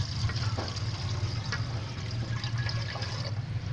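Water poured into half a kilo of yogurt in a cooking pot for kadhi, a continuous close splashing pour lasting several seconds.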